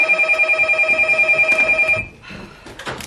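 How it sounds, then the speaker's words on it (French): A telephone bell rings loudly in steady repeated bursts for about two seconds, then cuts off, leaving faint room sounds. "Excusez-moi, monsieur Méchin, sous le casque, j'ai pas entendu le téléphone"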